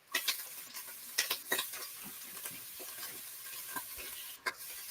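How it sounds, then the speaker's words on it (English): A utensil scrapes and taps against a pan while sausage is broken up as it cooks, with quiet sizzling beneath scattered clicks and knocks. "Trying to break up the sausage."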